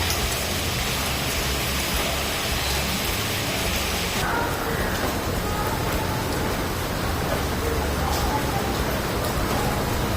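Steady rain falls on a garden seen from a balcony, a dense continuous hiss that holds even throughout with no voices.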